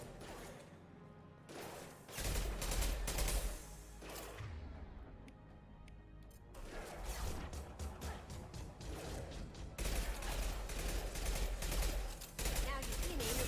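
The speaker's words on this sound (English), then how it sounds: "Someone's firing at me!" Rapid gunfire in Mass Effect, bursts of sharp automatic shots in clustered volleys with brief pauses between them, loud and close, accompanied by occasional impacts and a voice in the mix.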